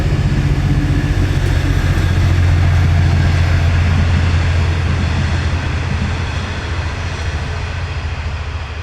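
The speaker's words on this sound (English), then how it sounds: "we got the giant fucking train. This train thinks it's so great." A large train rumbles past close by near an outdoor camping stove setup, a loud continuous low roar and rattle that holds steady and slowly eases off, with no talking.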